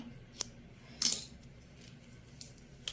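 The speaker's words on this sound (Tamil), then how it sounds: "எந்த இடத்துல முடியுதோ அந்த இடத்துல கட் பண்ணி விட்டுருங்க" Scissors cut plastic running wire while a basket is being made, leaving a few sharp, isolated snips and clicks spaced apart in otherwise quiet surroundings, with no speech.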